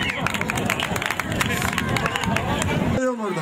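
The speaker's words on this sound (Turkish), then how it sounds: "Alkış." A crowd at a village harvest festival auction in Çamlıpınar breaks into applause, dense clapping mixed with crowd murmur, loud and close for about three seconds before cutting off abruptly.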